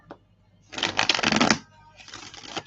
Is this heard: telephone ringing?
no